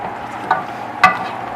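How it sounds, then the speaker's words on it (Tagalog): A spoon scrapes through kare-kare, a Filipino oxtail and peanut stew, in a pot, with a soft low simmering sizzle underneath and two distinct close clinks of metal against the pot half a second apart. "Ito, haluin po natin."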